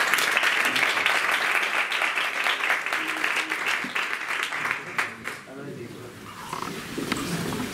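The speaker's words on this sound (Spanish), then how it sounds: "Un aplauso." A seated audience at a Spanish talk applauds two speakers, a steady roar of many hands that thins and fades after about five seconds, after which a single voice starts speaking.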